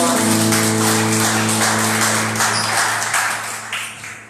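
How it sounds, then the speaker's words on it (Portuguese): Church congregation clapping together in praise, a dense wash of applause heard alongside a steady sustained musical tone, loud at first and gradually fading toward the end. "Salve de palmas para o Senhor Jesus Cristo."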